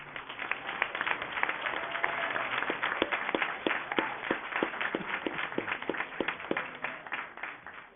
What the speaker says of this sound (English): One more round of applause for the PACE cluster.